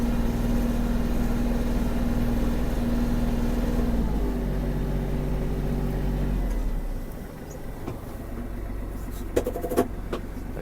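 Kubota GL-261 mini tractor with cab, its engine running at a steady idle with a low, even hum that drops and quiets partway through, followed by a few faint clicks and knocks.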